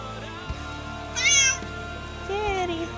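A stray cat in a backyard meows twice, close and clear, a longer call followed by a shorter rising one, over a faint steady background hum.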